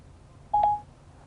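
A short electronic two-note beep from Apple CarPlay in an Audi, the voice assistant activation tone after pressing the steering-wheel talk button, clean and brief over a quiet cabin hum.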